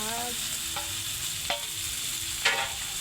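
Mixed leafy greens (saat mishali shak) fry in a pan while being stirred, a steady close sizzle broken by three sharp scraping strokes, with a short voice at the very start.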